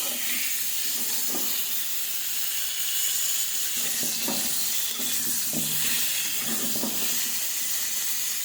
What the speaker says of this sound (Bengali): আমড়াটা ভেজে নিচ্ছি পাঁচ ফোড়নের সঙ্গে।